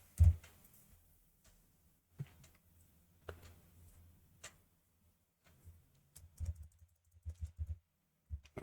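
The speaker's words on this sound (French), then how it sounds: "L'invite de commande, on va taper Vagrant-version." Sparse, quiet keys tapped on a computer keyboard while entering a command at a prompt, isolated clicks with long gaps, then a quicker cluster of taps near the end; no one speaks.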